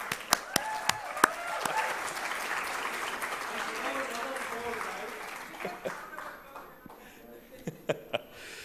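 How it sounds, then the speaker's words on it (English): Conference audience applauding at a business conclave, a full round of clapping that thins out into scattered individual claps, with some chuckles and voices mixed in. "If you want India to win, give yourselves an India round of applause,"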